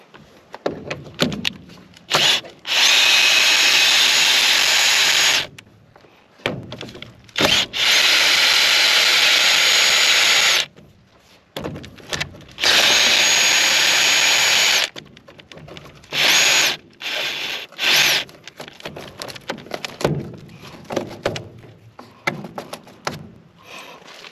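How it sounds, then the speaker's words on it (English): Power drill backing out three Tek screws from the seed and fertiliser metering system of a John Shearer seeder, three loud sustained whirring runs separated by handling clatter and pauses, close, no talk. "Next we're going to take out these 3 Tech screws here"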